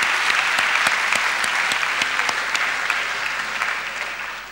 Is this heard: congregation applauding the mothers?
yes